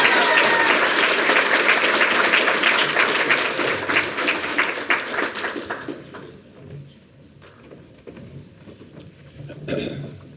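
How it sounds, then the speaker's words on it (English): Loud applause at an awards night ceremony, dense clapping that fades out over the second half, leaving scattered claps and faint murmurs with a brief swell near the end. "Please give a round of applause for Debbie"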